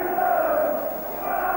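Roar of a football crowd at an Orient match, just after spectators clear the pitch before a restart: a broad, steady wash of many voices, loud and continuous.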